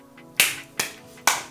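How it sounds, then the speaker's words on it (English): Three sharp, close hand claps used as a sync marker for a video recording, evenly spaced about four tenths of a second apart over quiet room tone. "Sync clap."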